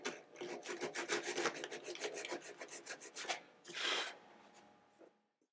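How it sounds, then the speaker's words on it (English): Sandpaper rubbed over the overspray along the fingerboard edge of a Gibson J-50 acoustic guitar makes a quick run of close, raspy strokes, then one longer sweep and a fade to quiet. "I'm just going to sand that out so that we get a consistency along the edge of the fingerboard"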